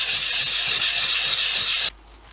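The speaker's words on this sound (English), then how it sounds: "So I'll put me sanding disc onto a lathe, and then we'll get that rough sanded off" A sanding disc on a lathe rough-sands the base of a wooden travel coffee mug, making a loud, steady abrasive hiss with a faint rhythmic rubbing that stops abruptly near the end.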